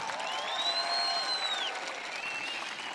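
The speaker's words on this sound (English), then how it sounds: "Ladies and gentlemen, a round of applause for these young men and women." An audience claps for graduating students, military enlistees among them, at a 2021 high school graduation ceremony. The crowd applause is steady and continuous, with a faint whistle-like tone gliding through the middle.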